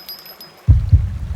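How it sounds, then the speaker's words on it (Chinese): Heartbeat sound effect in an animated fantasy series: after a brief quiet, deep low thumps start, with two pulses standing out amid a sustained rumble. "心跳声"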